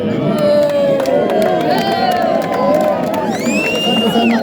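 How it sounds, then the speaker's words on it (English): A school crowd at a moral club launch cheers, whoops and shouts loudly as a tree is planted, a dense continuous roar of many voices with high-pitched cries rising over it, clapping buried in the din. "And you can clap for me as I plant my tree of hard work."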